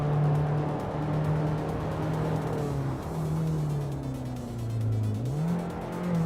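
A 1987 BMW 325i E30 Touring engine in a racing video game holds a steady, loud droning note, with a brief dip and quick rise in pitch near the end like a gear change.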